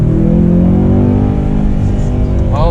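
Mercedes-AMG E63S engine in race mode, a loud close drone with rising harmonics as the revs climb, ending in a quick blip near the end, with a voice briefly over it.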